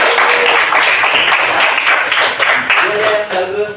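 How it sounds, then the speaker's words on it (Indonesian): Classroom children clapping their hands together in a dense, busy burst during a religious-education teaching practice lesson, loud and close, with voices mixed in near the end. "Wah, tepuk tangan dong"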